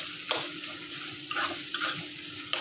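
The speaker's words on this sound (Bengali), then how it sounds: "এটা একদম ভাজা ভাজা করবো" Fish frying in a small amount of oil in a pan while it is stirred, giving a steady soft sizzle broken by a few sharp scrapes and clatters of the spatula.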